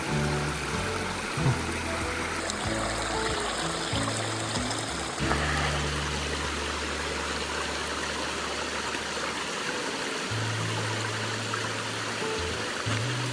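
A mountain river in the Caucasus rushes steadily, a dense continuous wash of flowing water heard close with no voices, with some low rumbling underneath.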